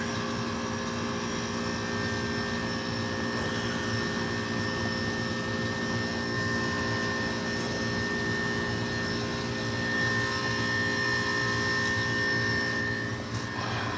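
Hoshizaki ice machine compressor running near harvest, a constant droning hum with a faint high-pitched whine layered on top, steady and unbroken throughout.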